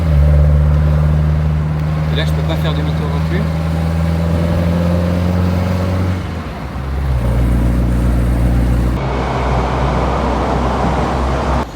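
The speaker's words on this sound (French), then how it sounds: "là on peut profiter de la belle sonorité de ce moteur" Mercedes 190 SL engine humming steadily from inside the cabin while cruising at about 50 km/h in fourth gear, a low continuous drone that shifts pitch midway, with someone talking over it.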